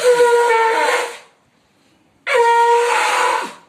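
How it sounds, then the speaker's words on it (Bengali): A conch shell blown twice, each a loud sustained blaring tone lasting about a second, separated by a pause of near silence. "আমি শঙ্খ দিচ্ছি দে"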